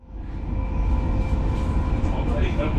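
An NS Intercity Direct passenger train runs at full speed toward Antwerp, giving a loud, steady rumble and rolling roar that builds at the start and then holds constant throughout.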